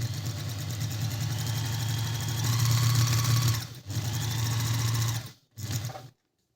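A freshly lubricated Minerva M3040 sewing machine runs at steady speed with a smooth, even hum, close up, stopping briefly twice before a final short burst.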